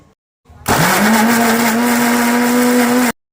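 A mixer grinder blends tomatoes and dried chilies for a momo chutney, starting with a short bump, then spinning up into a loud, steady high-pitched whir for over two seconds before stopping abruptly.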